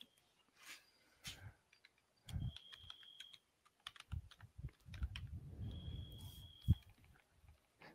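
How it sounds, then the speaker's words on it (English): Scattered bursts of clicky keystrokes on a Greek computer keyboard, close and fairly quiet, with uneven pauses between runs of typing and a faint tonal beep in the background. "I have a Greek keyboard."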